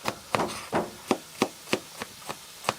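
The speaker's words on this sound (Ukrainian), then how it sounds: "І по під сантиметра їх нашинковуємо." A knife chops onion on a board while preparing bograch, a steady series of about nine sharp, evenly spaced knocks at close range, with no talking.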